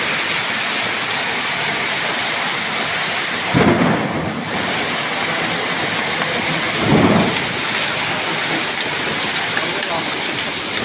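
Hail and heavy rain pound down steadily during a storm in Eskişehir, forming a dense, loud wash of noise with two brief louder bursts partway through.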